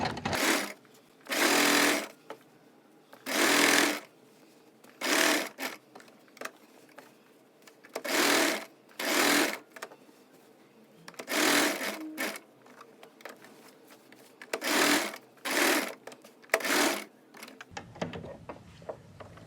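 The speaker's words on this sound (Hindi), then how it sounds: "अब हम इस तरह से बुकरम के बगल बगल सिलाई लगा लेंगे।" A sewing machine stitches alongside buckram on a boat-neck blouse neckline, running in repeated bursts of about a second each with brief pauses between, close and clear with no talking.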